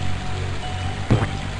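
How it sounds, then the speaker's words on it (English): A waterfall in the video game Freddi Fish 4 makes a steady, continuous rush of water, with a short louder splash near the end. "A waterfall."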